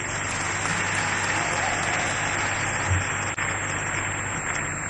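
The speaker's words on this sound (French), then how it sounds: "Oui, acclamez pour les députés aussi." A crowd at a formal political gathering applauds steadily for members of parliament, a dense, continuous wash of clapping that holds at a fairly even level from start to finish.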